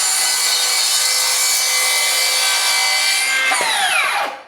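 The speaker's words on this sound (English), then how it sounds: "Now, if I come in with the rear handle, I can easily just cut through." A Milwaukee M18 cordless 10-1/4-inch beam saw rips steadily through lumber with a loud, continuous buzzing cut for about four seconds, then the blade breaks through and the motor winds down.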